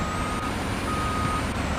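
A garbage truck in a video game reverses, its steady electronic backup beeper droning over constant engine rumble, loud and unbroken throughout.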